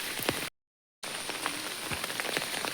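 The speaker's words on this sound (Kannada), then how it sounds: "ಮಳೆ ಒಂದು ಸ್ವಲ್ಪ ಜೋರಾಯಿತು" Steady rain falls on the ground outdoors while people walk under umbrellas. It makes a continuous, even patter with scattered close drops, and the sound drops out briefly partway through.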